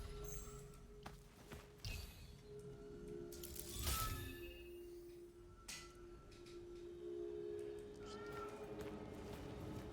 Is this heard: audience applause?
no